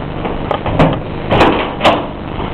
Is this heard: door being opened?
yes